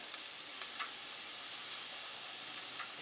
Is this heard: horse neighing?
no